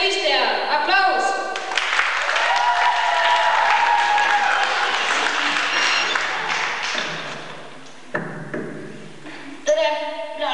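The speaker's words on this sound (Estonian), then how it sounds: "Aplaus!" An audience applauds for a contestant at a 2004 school show in Paldiski, with sustained clapping that swells and then tapers off. A voice speaks over it near the start and again at the end.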